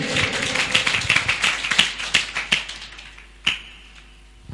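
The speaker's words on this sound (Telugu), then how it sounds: "చప్పట్లు కూడా దేవుని మహిమపరచండి." A church congregation claps hands in praise, a fast uneven burst of many sharp claps that thins into a few scattered ones near the end.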